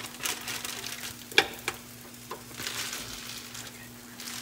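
Omelet ingredients fry softly in a pan with a low, steady sizzle, a few light clinks and stirring sounds, and a faint hum beneath.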